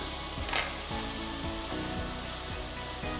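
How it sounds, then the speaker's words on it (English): Whole cashews and spices sauté in a pan for malai kofta curry, giving a loud, continuous sizzle with rhythmic scraping strokes of a spoon stirring about every half second. "I'll saute everything together"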